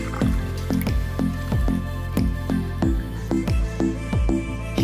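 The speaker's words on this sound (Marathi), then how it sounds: "पहिले 2 पाण्याने स्वच्छ धुवून घ्यायच्या" Boiled-recipe pigeon pea pods are washed by hand in water, giving a close, rhythmic series of wet squishes and drips, roughly one splashy slosh every half second, with no talk.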